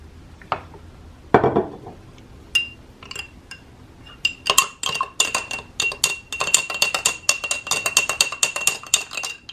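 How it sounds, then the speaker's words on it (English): Metal utensils clink against a glass bowl while olive oil is spooned into a vinaigrette, with scattered taps early and then a quick run of bright clinks from stirring. "So here's 2 tablespoons of the olive oil."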